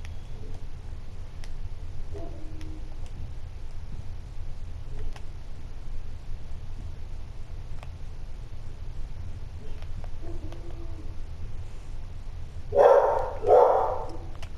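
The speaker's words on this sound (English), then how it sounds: "Oh my god, those dogs are annoying." Several dogs bark in a short cluster of loud, close barks near the end, after a long stretch of low steady background rumble with only faint scattered sounds.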